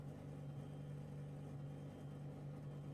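An Audi R8 LMS Evo race car engine in Assetto Corsa Competizione drones as a steady, rough, buzzing hum at constant pitch, with no talking.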